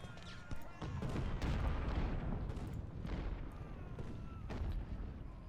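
Artillery fire in the Civil War strategy game Ultimate General: Civil War, with repeated booming cannon shots and rolling volleys over continuous battle rumble.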